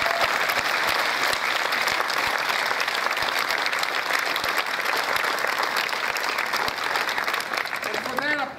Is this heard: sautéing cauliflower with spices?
no